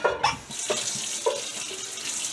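Tap water runs steadily into a kitchen sink while dishes are rinsed after making turkey noodle casserole, a close continuous hiss with a few light clinks and knocks.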